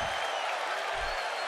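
A wrestling arena crowd in WWE 2K17 roars and applauds as a dense, steady wall of cheering, loud and unbroken through the brief moment.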